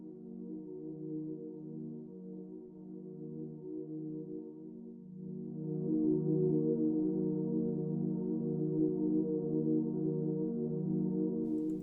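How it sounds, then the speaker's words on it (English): A slow, evolving FL Studio synth pad with reverb, warm low chords that swell and thicken halfway through, steady and alone without voices. "So I decided just to add a little background pad,"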